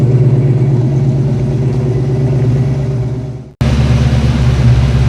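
A 1989 Ford Mustang LX with a 5.0 V8 and 260,000 miles idles steadily up close with a deep, even rumble, cutting out for a split second near the end before resuming just as loud.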